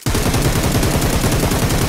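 Rapid automatic gunfire from a PUBG Mobile match rattles loud and close in an unbroken stream of shots from start to finish.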